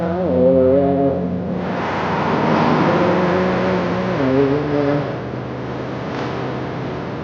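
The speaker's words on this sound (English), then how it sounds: "So all this traffic coming right here." Road traffic streams past on a northbound highway, loud close cars and trucks rising and fading one after another with engine drone and tire roar, no talking.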